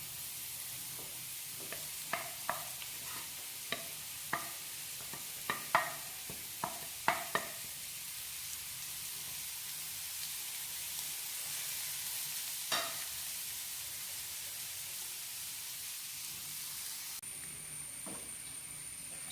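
Fenugreek leaf thoran stir-fried in a pan, a soft steady sizzle with scattered sharp clicks of a spoon scraping and tapping the pan, mostly in the first half, then quieter frying.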